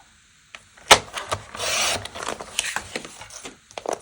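Heavy cardstock being trimmed on a craft table, with short scraping and rasping strokes of varying loudness and a sharp snap near the start, close up and without speech.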